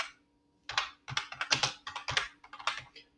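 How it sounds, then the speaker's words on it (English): Typing a prompt on a computer keyboard, a quick irregular run of close, crisp key clicks after a brief silent pause. "Now I'm typing it."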